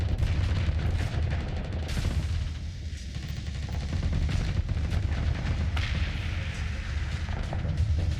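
Torpedoes and weapons firing in the space combat game Starsector, a dense, continuous barrage of booming shots and blasts with sharp bursts layered over a deep rumbling bed throughout.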